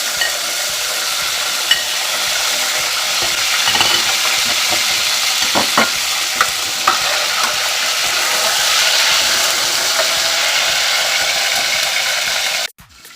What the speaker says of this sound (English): add the beef slowly into the oil. You can hear it sizzling.